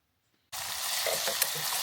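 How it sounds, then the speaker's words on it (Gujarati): Spices hitting hot oil to temper khichdi: after brief silence, a sudden loud sizzle bursts in close and holds as a steady hissing crackle. "ને વઘાર મારવો વઘાર"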